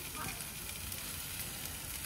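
A tomahawk steak frying over high heat gives a dense, continuous close-up sizzle, loud and steady without pause.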